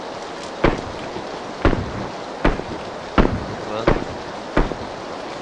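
Six spaced gunshots ring out in the PUBG video game, each a sharp loud crack at an irregular rhythm over a low background hum, and a voice speaks briefly.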